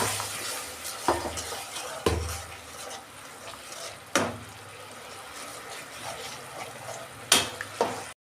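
Kashmiri chilli spice masala with salt frying in a pan, stirred with several sharp scraping clinks of a spoon against the metal over a steady low sizzle.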